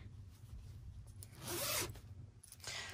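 A zipper is pulled along a fabric pouch in a couple of quick, close strokes, crisp and raspy, with no voices.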